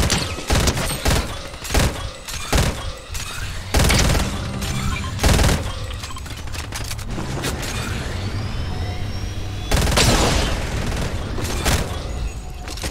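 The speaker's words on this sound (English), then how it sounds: "Who's shooting at who?" Rapid bursts of gunfire from the video game Fortnite, with loud close volleys and booming shots breaking up sustained stretches of shooting that run through the whole passage.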